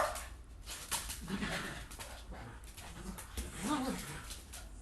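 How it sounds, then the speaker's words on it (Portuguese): An excited pet dog whimpers, yips and pants in close, restless bursts while it jumps against a door indoors, with some faint human voice mixed underneath. "Para de pegar impulso na porta! Que cachorro atentado!"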